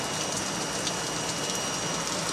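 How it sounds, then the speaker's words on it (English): Rain falls outdoors in Southwest Florida as a steady, close, even hiss with no pauses and no voices. "out here in the rain in Southwest Florida."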